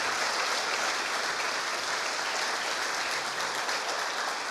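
A church congregation at a Sunday celebration service claps hard and continuously, a dense, even roar of many hands filling the room without pause and with no talk on top.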